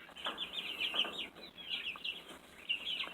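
Three-week-old light Brahma and Americana chicks peep and cheep in busy overlapping high chirps, fairly faint and close, with no talking.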